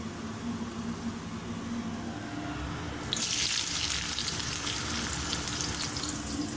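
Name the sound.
onions and green chillies frying in hot oil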